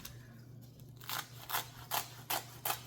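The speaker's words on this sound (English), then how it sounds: "So I'm just gonna take this seaweed and cut it." Scissors snip through sheets of organic nori seaweed being cut into chips, five crisp, evenly spaced cuts close up after a quiet start, with no talking.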